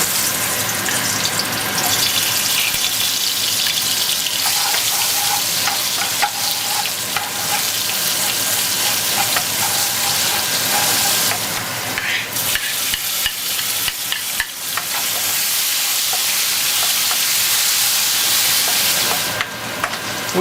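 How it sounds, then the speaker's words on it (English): Shrimp paste, pepper and garlic frying in hot oil, a loud, steady crackling sizzle that runs without a break and stays close, with a few short stirring and scraping clatters over it. "Now as soon as the oil is hot, I'm gonna add the shrimp paste, the pepper and the garlic"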